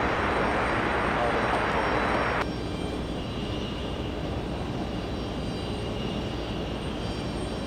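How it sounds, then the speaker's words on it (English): A JetBlue airliner arriving at JFK from the Bahamas gives a broad, loud roar of jet engines for a couple of seconds, then the noise drops sharply to a lower, steady rumble that continues to the end. "We have JetBlue flying in from the Bahamas."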